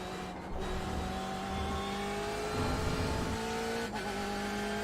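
Race car in the iRacing sim, engine droning steadily with rising harmonic tones as it accelerates, a brief dip near the end, continuous and close with no talk.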